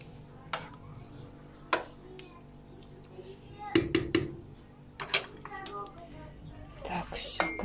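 A lid clatters onto a pot of borscht simmering on a home kitchen stove: a short cluster of metallic knocks and rattles between scattered dish and utensil clinks, with some talking in the background.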